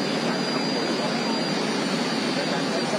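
An Airbus A340 airliner's engines produce a steady, loud, broadband roar with a faint high whine, continuous and unchanging for the whole stretch.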